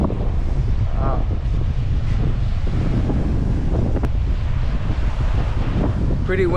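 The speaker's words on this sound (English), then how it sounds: "Pretty windy day." Strong wind buffets the microphone on a small seaside island in Hawaii, a loud continuous low roar with gusty rumbling throughout, and a brief bit of speech near the start and at the very end.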